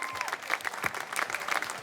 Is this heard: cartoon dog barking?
no